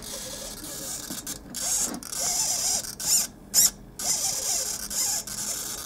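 Steering servo on a hand-built RC rat rod turning the front wheels through an M5 rod end and bracket, giving repeated short whirring, gear-like bursts close up with brief pauses between movements.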